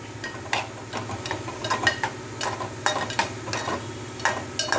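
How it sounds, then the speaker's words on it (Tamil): Curry leaves and ground coconut are stirred into pumpkin kootu, with a soft sizzle under repeated scraping and clinking of a spoon against the pot, close and fairly loud, no talking. "கொஞ்சம் கருவேப்பிலை போடுறேன் அதுக்கப்புறம் அந்த அரைச்சி வச்ச தேங்காய் துருவி தேங்காய்"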